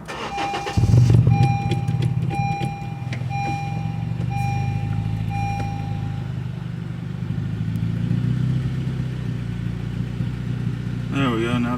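A 2015 Honda Civic Si engine with a retuned ECU starts and settles into a steady idle near 900 rpm, heard nearby with a series of repeated electronic beeps during the first seconds and faint talk.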